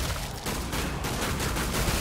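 Rapid gunfire from heavy-calibre weapons in the Killing Floor 2 game rattles loud and close, dense and continuous with a few brief gaps.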